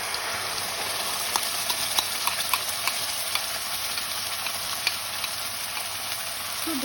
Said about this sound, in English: Fry this, and then you put in your mustard paste